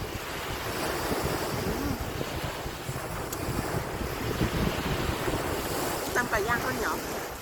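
Sea waves rolling onto Jomtien beach with steady wind buffeting the microphone, a continuous broadband wash of surf at close range with faint chatter at the edges.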